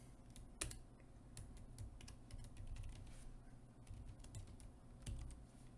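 Typing on a computer keyboard while entering an IF formula in Excel: faint, irregular key clicks spread across the stretch, low in level over a steady background hum, no voice.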